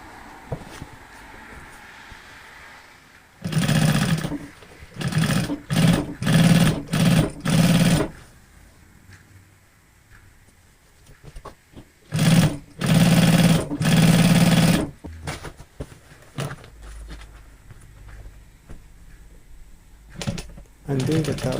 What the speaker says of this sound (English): I'm doing the top stitching here at the side.